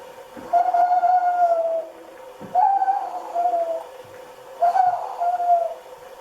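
A night bird's call used as a story sound effect, heard as three drawn-out, hooting tonal phrases in steady succession, clear and fairly loud against a quiet background with no talking.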